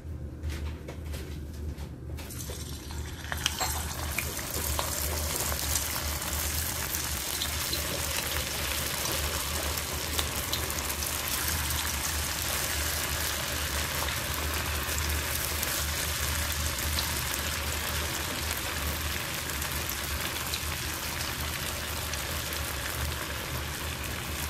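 Cauliflower 65 pieces dropped into hot oil over medium heat, a steady, close hiss and crackle of deep frying that holds evenly throughout with no talking.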